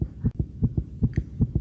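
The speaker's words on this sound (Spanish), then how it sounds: "el latido subía de punto a cada instante hasta que creí que el corazón iba a estallar" Rhythmic heartbeat effect from an audiobook of Poe's The Tell-Tale Heart: steady, deep double thumps repeating about every 0.4 seconds, close and muffled, with no voice over them.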